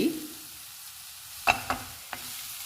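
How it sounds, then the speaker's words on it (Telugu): Onions, cumin, coriander powder and ginger-garlic paste fry in a pan for a gonguura egg curry, giving a soft, low sizzle with a few brief scraping stirs of a spatula, close by and without speech. "ఆనియన్స్ జీలకర్ర ధనియాల పొడి అల్లం వెల్లుల్లి పేస్టు అన్నీ ఫ్రై అయ్యాయండి ఇలా అవ్వాలి ఫ్రై"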